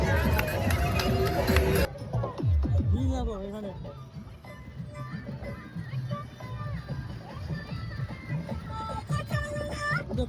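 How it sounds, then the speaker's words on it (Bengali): Dense crowd noise from the throng of people on the Jol Dhala procession from Katwa toward Bardhamaneshwar in Bardhaman, a loud burst at the start, then a steady hubbub with voices and talk close by. "আর প্রচুর মানুষের ভিড়, এখানে প্রচুর পাবলিক"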